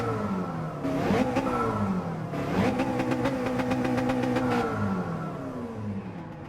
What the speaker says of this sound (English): I test the acceleration of these cars to work out where they like to upshift for max speed